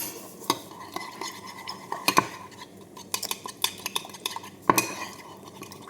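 Spoon whisking and clinking against a bowl while honey and mustard salad dressing is mixed, with irregular sharp metallic taps over a soft scraping stir, close and fairly quiet.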